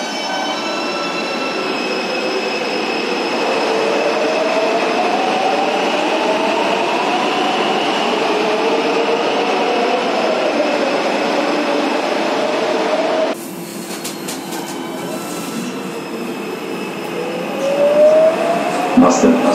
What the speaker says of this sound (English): This train is a really spooky sounding VF.